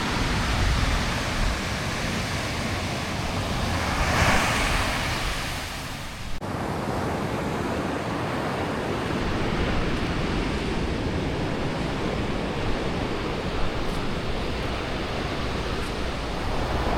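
At Moonstone Beach, high-tide surf washes in with a continuous broad hiss. A wave swells and crashes near the four-second mark, and wind buffets the microphone.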